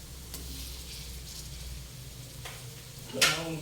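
Butter hits mixed seafood in a hot pan with a steady, low sizzle, and a sharper crackling burst flares up near the end.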